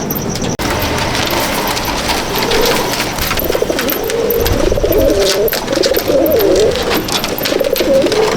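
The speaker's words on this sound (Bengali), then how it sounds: "এই যে আমার বাড়ির সেরা কালো পায়রা, এটা সেরা" Black Madrasi pigeons, males kept in cages at a home loft, coo steadily in rolling, repeated phrases close by over a constant hissing background.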